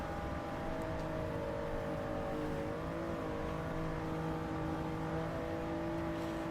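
A race car engine in Gran Turismo 7 drones steadily at high revs through a long straight, its pitch sliding slightly partway through, a continuous moderately loud whine with no talk.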